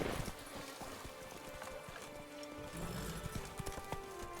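Geralt's horse Roach gallops in The Witcher 3, a steady rapid clip-clop of hooves close by, running without pause over a low ambient hum.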